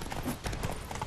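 Hooves of the horse Roach thud in a quick galloping rhythm across the ground in The Witcher 3, a short burst of clip-clop at moderate distance.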